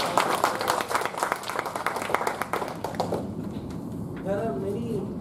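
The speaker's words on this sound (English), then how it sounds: "Give a big round of applause" Applause from a meeting audience after speakers are recognised, loud clapping for about three seconds that fades out, followed by quieter room sound with faint bird-like chirps.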